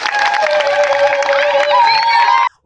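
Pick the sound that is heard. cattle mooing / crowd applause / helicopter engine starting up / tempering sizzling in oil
crowd applause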